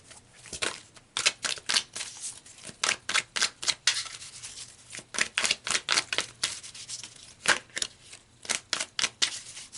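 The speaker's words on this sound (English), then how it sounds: "So let's pull some more cards, Leo." Tarot cards riffled and snapped in a long run of quick, crisp bursts, close up and fairly loud, with short pauses between flurries and no talking.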